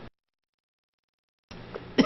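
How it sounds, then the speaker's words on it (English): A single short cough near the end, preceded by a faint throat sound, during a Minecraft let's-play recording; brief and close to the microphone, with silence before it. "Didn't mean to cough."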